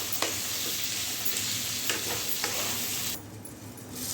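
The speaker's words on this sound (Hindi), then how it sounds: "चिकन भी अच्छी तरह से घी में भून चुका है" Chicken and carrots fry in ghee in a pan, giving a loud continuous sizzle. A few stirring scrapes break through, and the sizzle drops off sharply near the end.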